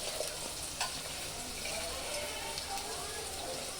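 Tomatoes and red chillies frying with browned onions for a chicken curry give a steady, close sizzle with a few stirring clicks, and a voice talks faintly underneath.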